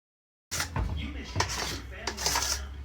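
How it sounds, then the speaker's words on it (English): Chocolate zucchini cake batter being mixed in a bowl, steady clinking and scraping of a utensil against the bowl with rhythmic knocks, close and moderately loud after a brief silence. "Okay, so now I'm just mixing everything together."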